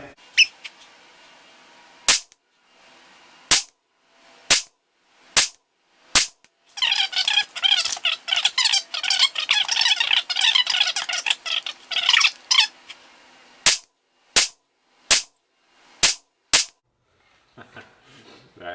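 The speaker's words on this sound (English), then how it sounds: "I shot that one a little quicker, but those first 3 shots are in the same hole." A suppressed LMT R20 RAHE rifle fires two strings of five sharp shots in a steady rhythm, with a burst of broadband noise filling the gap between the strings.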